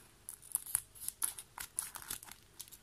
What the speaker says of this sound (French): Vous allez prendre les ciseaux et on va couper